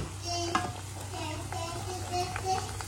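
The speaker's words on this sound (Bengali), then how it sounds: "এখন ফুচকা গুলো ভেজে নিচ্ছি" Fuchka frying in a pan in a home kitchen, a soft steady sizzle with faint stirring clicks, quiet and close, with a voice faintly in the background.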